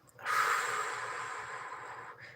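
Lamaze-style breathing: one long, audible exhale lasting about two seconds, close and fairly loud, ending with a short extra breath, no talking.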